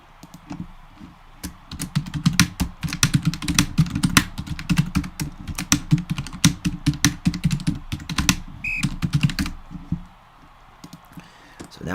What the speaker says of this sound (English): Sorry about the typing there.